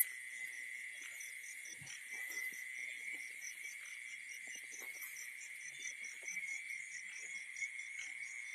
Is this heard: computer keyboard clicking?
no